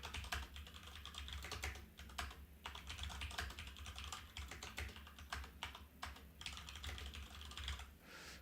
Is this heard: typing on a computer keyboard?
yes